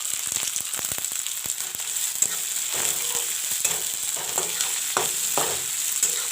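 Chopped onion and chilies frying in hot oil in a pan, giving a steady bright sizzle throughout with scattered crackles and stirring scrapes, close and fairly loud, with no voices.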